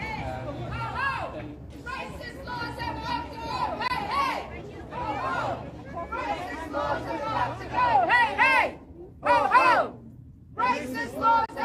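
Marchers crowd a street at an all-Scotland anti-racism demonstration, a mix of chatter and hubbub from many voices near and far, swelling into louder shouted bursts near the end.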